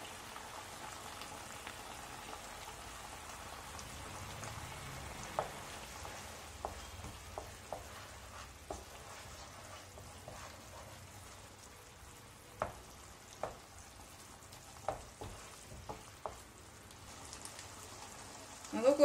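Chicken Schezwan Manchurian gravy boils quietly in a pan, with soft scattered bubbling pops over a faint low hiss.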